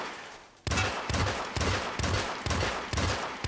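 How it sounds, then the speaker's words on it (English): Rapid gunshots fired at the walls of a safe house in a stealth action game, a regular run of about eight loud, close reports with ringing tails. "Why are you shooting walls of a safe house?"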